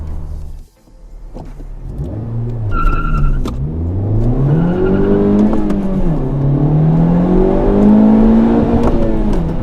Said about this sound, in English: Let's go ahead and try a 0 to 60 run on the Type R.